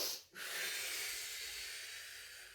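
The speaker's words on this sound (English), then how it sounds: "Inhale here." Someone draws a long, deep breath in during an advanced core workout, a steady airy hiss lasting a couple of seconds after a brief pause, close and fairly quiet.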